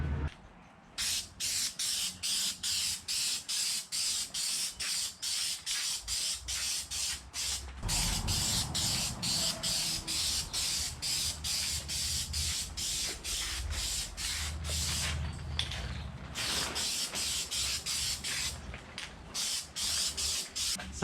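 Aerosol spray paint applied in light coats to a Subaru WRX wagon light, heard as a long run of short hissing bursts in quick regular succession, close, with brief pauses and a longer continuous spray midway.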